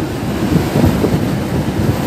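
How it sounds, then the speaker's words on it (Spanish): Waves on the Adriatic Sea near Ancona, Italy, wash steadily on a cloudy day, a continuous low surf roar mixed with heavy wind buffeting the microphone. "Hay olas."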